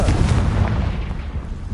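A Confringo blasting spell in Hogwarts Legacy explodes inside a cave as a heavy, rumbling boom that fills the short moment and sustains a deep roar without any voices over it.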